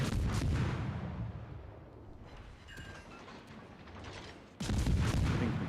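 Warship guns fire in the World of Warships: Legends naval battle game: a heavy, booming salvo opens, rumbling echoes fade beneath, and a second loud salvo bursts near the end, with no talking.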